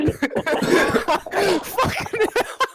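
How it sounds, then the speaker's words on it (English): A burst of harsh, wet smoker's coughing fits close by, several rough hacks and throat-clearing sounds in quick succession over nearly three seconds. "Smoker's cough kicks in."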